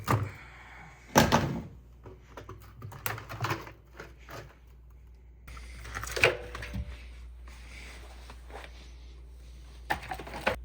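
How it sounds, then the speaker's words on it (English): A rubber door seal pulled off a GE washer, giving a series of uneven thumps, scrapes and rubbery tugs close by, with irregular bursts and quieter handling between them. "Spread that clamp out, and then the door seal should just pull right off."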